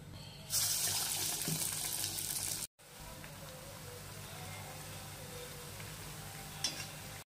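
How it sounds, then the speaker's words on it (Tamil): Green gram vada frying in hot oil, a steady bright hiss and sizzle that cuts briefly, then continues more softly with a faint crackle near the end. "எண்ணெய் நல்லா சூடு பண்ணிட்டு சிம்ல வச்சுக்கலாம். ஒரு பவுல்ல தண்ணி தொட்டுட்டு வடை தட்டி போட்டுக்கலாம்."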